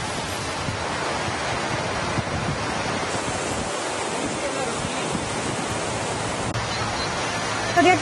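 Heavy rain pours on the streets of Kengeri in Bangalore, a broad, constant roar of water and wind that stays at an even level throughout.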